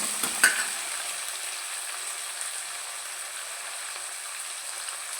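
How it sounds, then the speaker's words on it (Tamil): Green chillies and ripe small tomatoes sautéing in a pan, a steady close sizzle with a brief clink of a spoon stirring near the start, no talk over it. "ரெண்டு பச்சை மிளகா ரெண்டு சின்ன தக்காளி நல்லா பழுத்த தக்காளியாக எடுத்து வச்சுருக்கீங்க நீங்கள் நல்லா வதங்கட்டும்"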